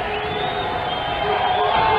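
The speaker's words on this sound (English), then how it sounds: "Crowd making a ruckus here at the Thunderbowl." Football crowd cheering and roaring at the Thunderbowl stadium during a college game between Ohio Dominican and CSU Pueblo, a loud, dense, continuous wash of noise with distant shouts mixed in.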